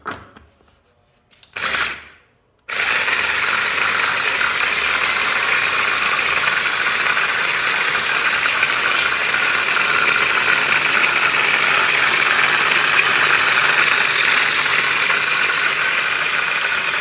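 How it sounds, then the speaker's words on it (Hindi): A kitchen mixer grinder blends onion, garlic and ginger into a paste, running as a loud, steady whir for most of the stretch after a couple of short bursts at the start. "अब मैंने इसको ग्राइंड कर दिया है"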